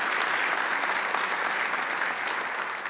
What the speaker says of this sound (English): Could I get a round of applause for the planners of this event?